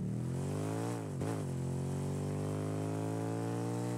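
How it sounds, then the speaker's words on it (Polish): Engine of the Outlaw car in Rocket League, a steady synthetic drone with a brief rev dip and pitch rise partway through, continuous and close with no talk. "Jeszcze w międzyczasie dźwięk auta."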